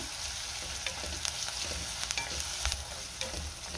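Ginger-garlic paste with onion and chopped coriander sizzles and crackles in hot oil, a steady close fry broken by a few sharp pops and spatula scrapes.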